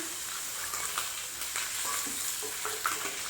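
Chicken pieces frying in oil for chili chicken, a continuous bright sizzle at steady volume with scattered crackles and soft stirring scrapes.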